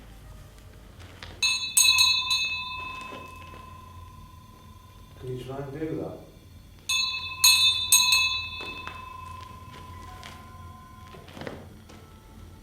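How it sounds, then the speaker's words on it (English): A small hand bell rings in two clear bursts of bright, shimmering tones during a paranormal investigation at Leap Castle in Ireland, close by, with voices talking between the rings. "Ring the bell."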